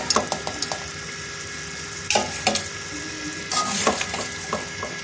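Vinegar-marinated chicken sizzles steadily in a hot pan for a restaurant-style Chinese-style dish, with a continuous frying hiss broken by several clinks and scrapes of stirring.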